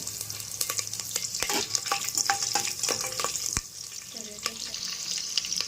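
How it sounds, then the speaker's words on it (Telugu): Marathi moggu and green chillies frying in a pan for chicken biryani, a close, busy sizzle with frequent spatula stirs and scrapes, no talk. "మరాఠా మొగ్గ ఇవన్నీ కూడా వేసుకొని ఒక 2 మినిట్స్ ఇలా విధంగా ఫ్రై చేసుకోవాలి"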